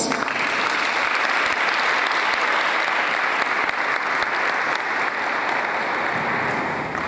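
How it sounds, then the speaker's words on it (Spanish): A large crowd applauds loudly and steadily, a dense wash of clapping that holds strong for several seconds without letting up. "Por favor, fuertes aplausos."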